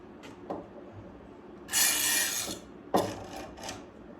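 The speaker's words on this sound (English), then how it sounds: "let me get the rest of the clamps on here." Pony clamps being fitted onto a teak counter top, with scattered scraping and rasping of metal bars and wood, a longer rough scrape and a few sharp knocks, close up and without talk.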